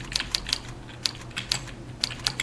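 Fingers tap out quick, uneven strings of crisp keystrokes on a computer keyboard during a typing-lesson game, sharp clicks close up over a faint steady hum, with no talking.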